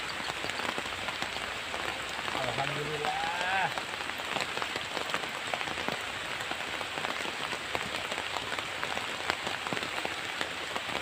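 Steady rain patters and hisses across the surroundings during a fishing outing, a dense continuous wash of drops heard throughout, with a person speaking a single brief word partway through.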